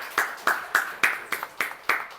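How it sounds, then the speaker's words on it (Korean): A church congregation claps together during a Sunday worship service, sharp unison claps in a steady rhythm of about four per second, close and fairly loud, with no talking. "하나님 앞에 감사의 박수 올려드리겠습니다."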